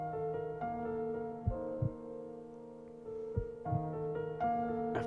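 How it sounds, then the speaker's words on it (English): Steady heartbeat thumps from the video game To the Moon, a few low pulses spaced irregularly beneath sustained soft musical tones, with no talking. "There's also a heartbeat. Do you hear that?"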